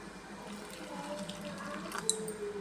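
Water poured onto oats in a bowl for soaking, a faint, soft trickling splash heard close up with no voices.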